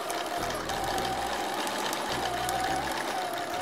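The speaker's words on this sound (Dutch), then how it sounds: "Dan zet ik een geel garen op de naaimachine. Precies, precies op het randje weer stikken." A sewing machine stitches a seam in yellow thread along the edge of a fabric repair, its motor whirring steadily and fairly close with brief pauses between runs of stitching.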